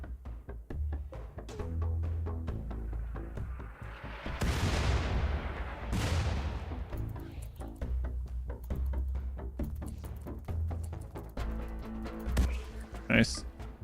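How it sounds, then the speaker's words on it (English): Gunfire from colonists shooting at a flesh mass in RimWorld Anomaly, heard as repeated booming shots and bursts under continuous talk, with a couple of louder blasts in the middle. "They will continue shooting pieces of the flesh mass nearby when you tell them to shoot."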